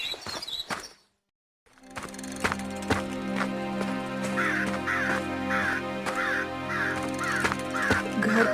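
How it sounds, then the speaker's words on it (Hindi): A crow caws repeatedly in a steady series of harsh calls, fairly close, after a brief silence, over a rhythmic background of other sounds. "दूर किसी पेड़ की डाल पर वही कौवा बैठा दिखाई देता"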